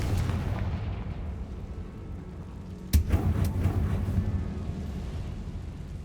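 Bombarda and Confringo spell blasts in the Hogwarts Legacy video game: a sustained low rumbling roar with one sharp explosive crack near the middle, followed by further bursts and crackling debris.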